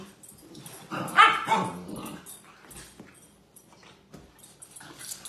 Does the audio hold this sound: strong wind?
no